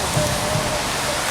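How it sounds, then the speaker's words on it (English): Steady, dense rain hissing loudly and evenly throughout, close with no distinct drops or talking standing out. "Rain"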